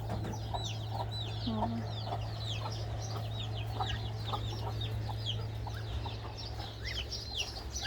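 Chickens cluck and chirp continuously in a busy flock, with a steady low hum running underneath throughout.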